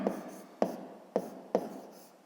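A pen scratches across paper while the sides of an angle are labelled in a fifth-grade maths exercise, four short, crisp strokes spaced evenly, each fading quickly, alone and close.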